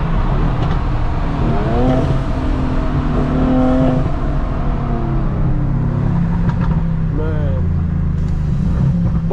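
A rear-wheel-drive Mercedes C63 AMG accelerates hard from inside the cabin, its loud, throaty engine droning and rising in pitch through gear changes, with someone talking over it.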